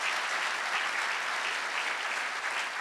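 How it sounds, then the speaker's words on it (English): Dense, steady applause from a memorial lecture audience, many hands clapping evenly throughout at a moderate level. "Give a round of applause to those that have blessed."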